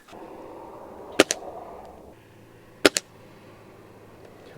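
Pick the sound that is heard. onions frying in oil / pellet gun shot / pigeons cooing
pellet gun shot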